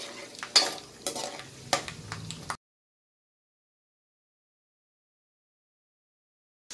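Peanuts sizzling and frying in hot oil in a pan for kanda poha, with stirring clatter and a few sharp scrapes, heard for about two and a half seconds before falling silent.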